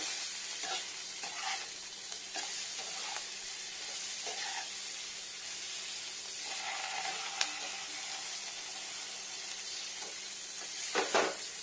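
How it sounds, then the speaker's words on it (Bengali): Boiled potatoes stirred and fried in a pan, with a steady soft sizzle and repeated scraping stir strokes near the microphone, ending in a few louder clatters. "ফ্রাই হবে সুন্দরভাবে আলুটা"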